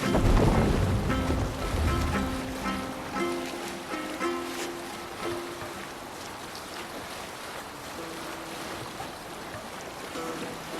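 In the Assassin's Creed Valhalla video game, a Viking longship moves over waves with a steady wash of sea and wind. Soft musical tones from the game play faintly beneath, with no talk.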